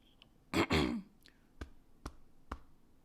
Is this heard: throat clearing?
yes